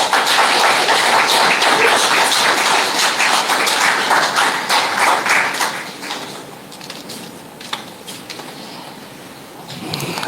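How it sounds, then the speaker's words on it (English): Applause from the audience at a St. Mary's Academy class reunion evening, dense clapping that holds strong for several seconds and then thins into scattered claps. "Another round of applause for the principal of St. Mary's Academy, Sylvia John Baptist"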